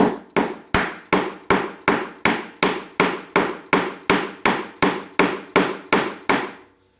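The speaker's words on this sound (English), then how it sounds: "I'm going to use this 1 inch wide chisel, and instead of going straight down, I'm going to angle it back a couple degrees" A 1-inch-wide chisel is driven into wood for cabinet joinery, with about fifteen sharp, evenly spaced mallet strikes. Each blow is loud and close and fades quickly, with no talk.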